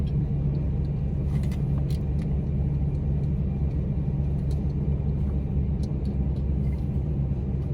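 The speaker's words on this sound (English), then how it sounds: "I had to listen to the truck and see if it's normal." Truck engine heard from inside the cab while driving, a steady low rumble with road noise and no change in pitch, continuous and fairly quiet, with faint ticks and knocks on top.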